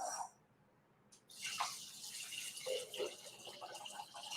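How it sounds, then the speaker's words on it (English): Water poured into a blender while preparing a pantry taco meal, heard as a soft, steady splashing pour after a brief quiet start, faint and close. "We're going to add a little bit of water."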